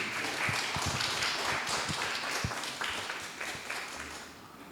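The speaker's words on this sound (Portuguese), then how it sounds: "Uma salva de palmas aí." Soft applause from an audience welcoming a professor to the opening lecture of a Brazilian rhythms workshop at UNICAMP's Casa do Lago; the scattered clapping is moderate and distant, then thins out toward the end.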